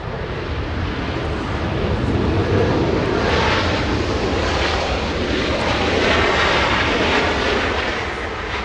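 A Southwest Airlines Boeing 737-700 arrives at Los Angeles International Airport, its engines producing a loud, steady roar that swells slightly and then eases toward the end.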